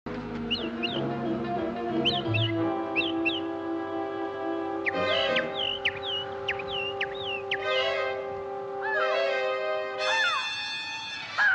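Bird calls chirp and squawk in short repeated bursts, some sharper and louder, sounding over a steady background tone throughout.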